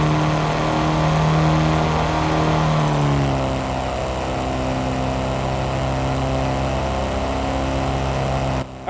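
A virtual car engine in Car Mechanic Simulator 2026 holds a steady high rev, then drops and settles into a lower even drone held near 3,000 RPM, loud and close with no talking.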